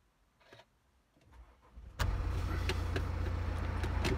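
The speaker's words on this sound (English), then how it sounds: "If I start the motor car up" BMW 2 Series Active Tourer 218d diesel engine cranking briefly after a few quiet clicks, then catching abruptly and settling into a loud, steady idle close by.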